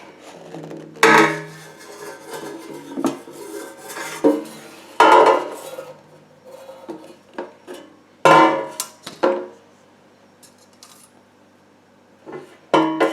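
A metal plate lifted out of the non-stick basket of a COSORI 5-quart compact air fryer, model CAF-L501-KUS, giving several close clattering and scraping knocks of metal on metal, spaced out with quiet gaps and no talk.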